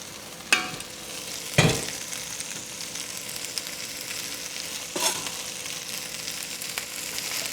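Pasta with chicken being mixed with a fork in a hot frying pan, a steady sizzle with a few sharp clinks of metal on the pan, no talking.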